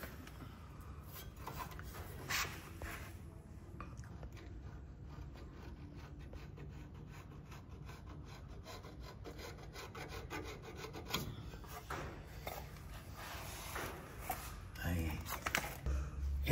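Scratching and rubbing on sheet metal as it is marked for cutting during panel beating, a steady rasping scrape running throughout at close range, with a person talking over it.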